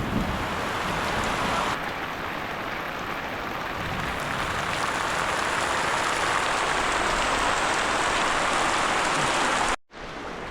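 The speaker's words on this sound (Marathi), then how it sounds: "जोरात पाऊस आला" A downpour of heavy rain in Konkan roars in a constant broadband wash, loud and close, with a brief drop near the end before the steady patter resumes.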